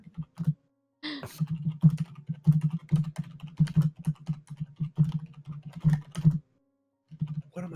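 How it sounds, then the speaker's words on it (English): Steady typing on a Corsair computer keyboard, a close run of quick key clicks in uneven bursts with a couple of brief pauses. "The dulcet tones of SciFri's keyboard. Oh, the Corsair keyboard"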